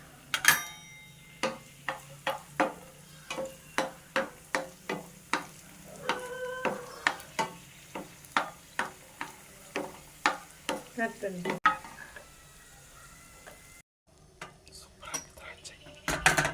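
Raisins, almonds and cardamom frying in a pan, with a spoon striking the metal pan in a steady rhythmic series of sharp clinks over a low sizzle, close by.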